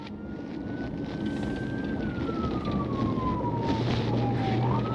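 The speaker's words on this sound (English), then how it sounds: "a police vehicle with lights and sirens was actively following" A siren wails steadily, its pitch slowly gliding downward, over a loud rumbling engine drone, with no talk.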